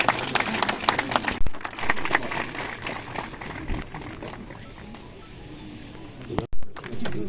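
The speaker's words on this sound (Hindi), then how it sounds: "जरा जोरदार तालियां आपकी बजनी चाहिए।" An audience claps at a public ceremony where the Chief Minister lays the foundation stone of a centre for disabled learners in Kandaghat. Scattered clapping is strongest early on and then thins into murmuring crowd noise.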